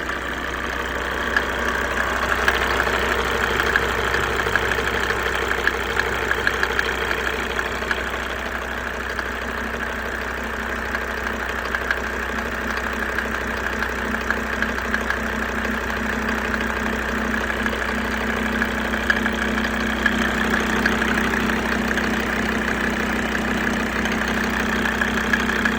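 An OM605 diesel engine idles steadily at close range with a faint, regular knocking running through its low drone.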